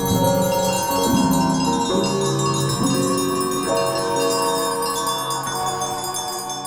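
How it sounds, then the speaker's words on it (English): Many bells ring loudly together in a dense, clashing wash of overlapping tones, continuous and full throughout. "Soon the room was flooded with the sounds of loud, cacophonous bells."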